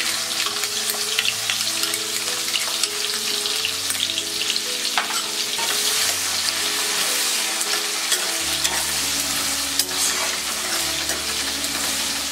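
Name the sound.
onions frying in a pan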